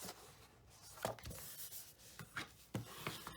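Tool burnishing a paper pop-up card, quiet close scraping and rubbing strokes in a few separate bursts.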